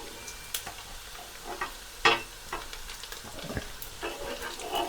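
Chicken fries in a pan with a steady soft sizzle, broken by scattered clicks and taps as the pieces are stirred and turned.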